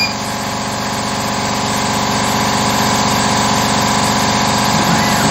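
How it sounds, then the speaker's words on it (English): Air compressor running steadily beside a Carvera Air desktop CNC milling machine, a continuous close mechanical drone with pulsing low hum throughout, no talk. "So inevitably the compressor will come on from time to time during this run"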